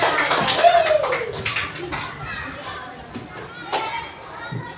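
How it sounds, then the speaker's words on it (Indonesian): A classroom of children claps together in a short burst, mixed with children's voices and chatter, while an adult teacher talks over the noise. "Tepuk tangan dulu semuanya benar."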